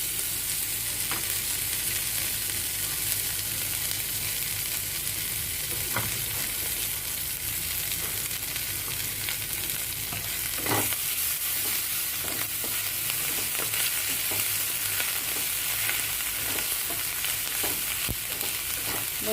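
Ginger, garlic and green chillies sauté in hot oil with whole spices for a paneer masala gravy, a continuous bright frying sizzle with occasional stirring scrapes and pops, steady and close.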